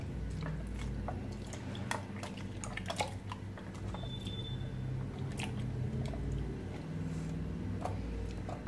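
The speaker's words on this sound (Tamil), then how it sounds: "இந்த டொமேட்டோவையும் இந்த புளி தண்ணியில் வந்து ஸ்மாஷ் பண்ணிக்கிறேன்." Ripe tomatoes being squished by hand into tamarind water for pepper rasam, giving a steady stream of soft wet squelches, drips and small splashes close up, with no one talking.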